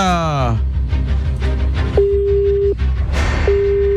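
A steady electronic busy tone beeps in two long pulses over a noisy, crackly background with faint voices.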